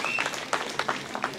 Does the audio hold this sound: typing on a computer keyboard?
no